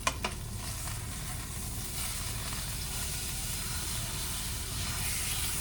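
A chicken breast fries in hot oil in a pan, giving a loud, steady sizzle with a couple of sharp pops at the start.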